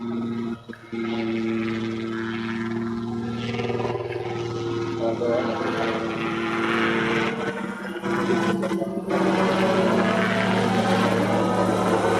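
A helicopter comes in to land at an airfield during a touring event for gyroplanes and helicopters, its steady loud rotor and engine drone filling the whole clip while people talk nearby.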